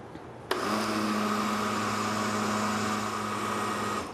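A less powerful kitchen blender running while making vegan cheese sauce, starting abruptly with a loud, steady whirring motor hum that holds for several seconds before tapering off, with no one talking.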